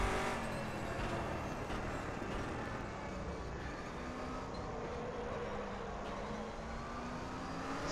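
A Saleen S7R race car engine on the Sepang circuit in the RaceRoom racing game holds a continuous dense roar across the whole span, its pitch drifting slowly as it cruises, with no talking.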